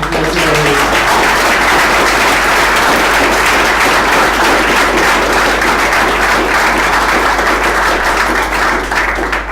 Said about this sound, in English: Guys, let's give him a big applause.